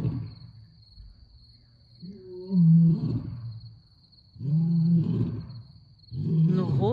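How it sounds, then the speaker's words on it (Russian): A white lion roars in a pride setting, three deep grunting roars in succession rising and falling, loud and fairly close over a steady high insect-like whine. "Но голосом похоже на белого льва."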